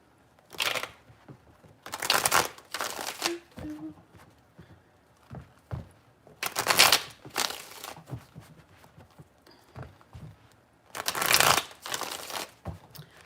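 Tarot cards are shuffled in three separate bursts of crisp, riffling papery rustle, with quiet pauses and faint handling noises between them.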